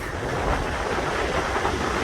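Niagara Falls waterfall, a thick, unbroken roar of falling water heard close and loud for a couple of seconds, broadband rushing with no voices.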